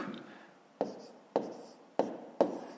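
Pen strokes writing out a fifth-grade math solution on paper, a soft scratchy scribble punctuated by four sharp taps as numbers are set down, close and fairly quiet, with no talking.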